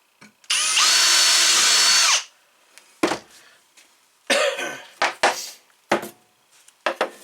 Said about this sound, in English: And you just mark your holes and drill them.